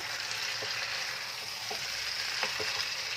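Fried potatoes are stirred into a mutton masala for Bengali kosha mangsho, sizzling steadily in a pan while a utensil gives a few faint scrapes and taps.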